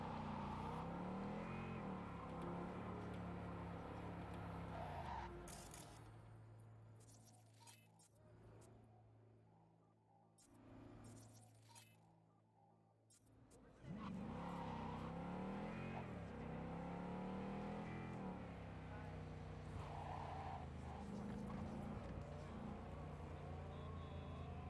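A car driven in Cyberpunk 2077 hums and revs steadily with a loud, sustained engine drone, briefly dipping and thinning midway before surging back full for the rest of the drive.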